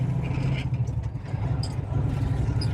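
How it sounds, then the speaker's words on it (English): A truck engine idles in regen mode with a steady low rumble, some faint rattles and clatter over it, no talking. "Truck's in regen mode right now. I don't know if you guys can hear the engine."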